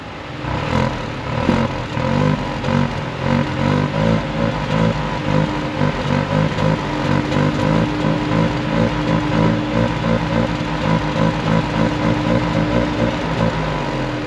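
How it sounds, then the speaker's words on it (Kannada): A Tata Altroz Racer with its 1.2-litre turbo petrol engine of about 120 bhp revs hard, giving a loud, dense exhaust note that holds steady for about fourteen seconds with no voices. "ರೇಸರ್ನ ಎಕ್ಸಾಸ್ಟ್ ನೋಟ್ ತುಂಬ ಚೆನ್ನಾಗಿದೆ ಅಲ್ಲ"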